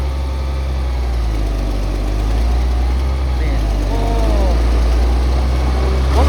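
A motor grader's heavy engine rumbles steadily while it grades the road in front of a school, a low continuous drone heard close throughout, with faint voices in the background.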